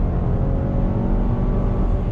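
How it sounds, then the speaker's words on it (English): A 2020 GMC Acadia AT4 SUV with a 310-horsepower engine and 9-speed automatic kicking down and accelerating, a steady loud engine drone and road rumble heard from inside the cabin. "That 9-speed drops down and you're off and running."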